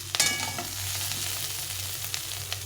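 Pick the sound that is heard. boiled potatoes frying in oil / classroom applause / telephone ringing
boiled potatoes frying in oil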